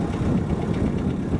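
Boat engine idling along at low speed through a narrow pass, a steady low rumbling drone with faint wind noise, continuous and close, no talk.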